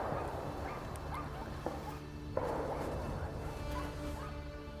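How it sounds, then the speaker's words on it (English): Hunting dogs bark and yelp in woodland during a driven wild boar hunt in Hungary, faint and distant, with a few sharper knocks amid the steady outdoor background. "I hear the beaters and the dogs closing in the woods behind us."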